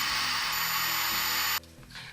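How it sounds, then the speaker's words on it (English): A woodturning lathe spins slowly with a steady broadband whirr and low motor hum, close by and continuous, then the hiss drops away abruptly near the end as the lathe winds down. "I'm going to run the lathe slowly."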